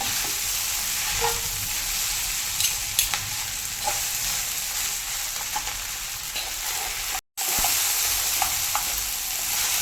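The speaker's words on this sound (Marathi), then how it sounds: "मिक्स करायला थोडा त्रास होतो नूडल्स अखंड असल्यामुळे" Chicken noodles fry in a pan with a steady, loud sizzle, while a utensil stirs and tosses them, adding occasional clicks and scrapes.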